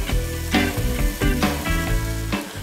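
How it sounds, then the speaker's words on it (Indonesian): Oxtail sizzles steadily as it is grilled and basted with spiced grilling paste, a close, loud crackle with rhythmic bursts of fat popping and no speech. "Oke, kita bakar dulu deh buntutnya."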